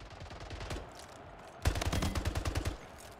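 Rapid automatic gunfire in the video game Splitgate, a quieter burst of shots followed by a louder, dense stream of rhythmic shots near the microphone.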